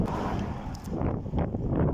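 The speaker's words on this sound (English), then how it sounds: "A bit of a cold and windy one today." Steady low rumbling wind buffeting the microphone, a continuous blustery roar with gusts swelling and easing throughout.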